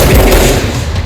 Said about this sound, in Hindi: इस बार गन का यूज़ करते हैं।